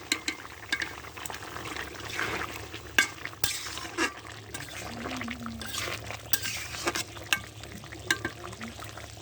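Chicken curry is stirred in a pan after ground garam masala is added, giving faint scraping and bubbling sizzle with intermittent clinks and stirring strokes throughout, with a little background noise.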